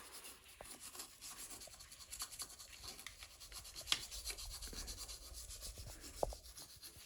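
A rotary tool fitted with a large bit does finishing work inside a Derbi 88cc Stage6 engine crankcase, giving a faint, continuous scratchy grinding and rubbing with small irregular scrapes.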